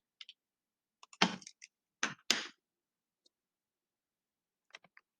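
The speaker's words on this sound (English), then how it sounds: "So I will go ahead and type your data in." Keys tapped to enter numbers into a calculator or computer: a few short, sharp clicks in small scattered clusters, close and clear against silence.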